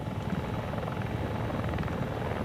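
An enemy helicopter flies nearby in the video game Squad, its rotor beating in a fast, steady throb with an engine drone that stays constant and fairly close throughout.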